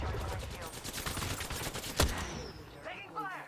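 Rapid automatic gunfire in a battle royale video game, a dense run of fast shots with one louder crack midway, ending in scattered game effects and a brief voice.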